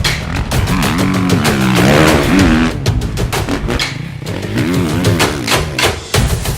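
A 2018 Suzuki RMZ450 motocross bike rides at Glen Helen Raceway, its engine loud and close, revving up and down in repeated rising and falling bursts with a choppy, pulsing exhaust note.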